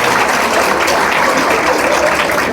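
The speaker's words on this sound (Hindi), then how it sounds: "इसलिए दिवाकर आनंद जी के लिए एक बार जोरदार ताली बनती है।" Dense, loud audience applause fills a school award ceremony honouring a student, a continuous patter of many hands clapping at close range with no speech over it.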